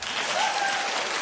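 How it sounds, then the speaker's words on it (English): A television talk-show studio audience gives a steady wash of applause, loud and continuous throughout. "Clap if you're with me."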